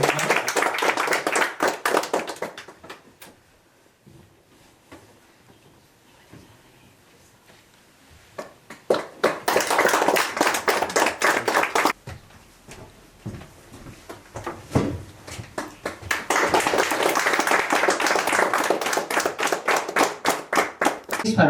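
Applause at a school retirement party, in three loud bursts of many hands clapping close by, separated by quieter gaps with scattered claps and murmuring voices.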